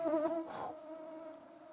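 Close, high-pitched mosquito whine hovering near the ear, shifting pitch as it moves, faint and brief with no talking.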